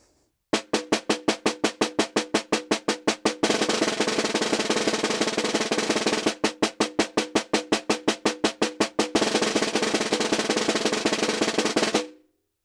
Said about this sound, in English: play a measure of alternating 1/16 notes, and then a measure of alternating multiple bounce strokes.